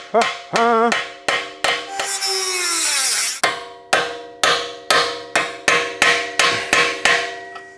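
A chisel is struck repeatedly with a hammer against a part of a totaled BMW M5. Over a dozen sharp, ringing metallic blows land close and loud in an uneven rhythm, broken midway by a scraping, screeching stretch.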